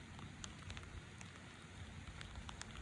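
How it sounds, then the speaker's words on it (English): Light rain begins falling beside a swimming pool, a soft steady patter of drops on surfaces with a few brighter ticks, continuous and fairly quiet with no voices. "See, here comes the rain."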